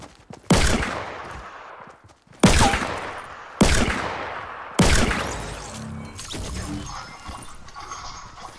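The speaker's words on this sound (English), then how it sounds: "That was a headshot for 135 with the revolver." Four loud revolver shots from Fortnite, each a sharp crack with a ringing tail, come spaced about a second or two apart, followed by clattering game noise.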